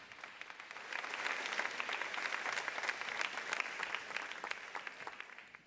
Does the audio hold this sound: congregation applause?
yes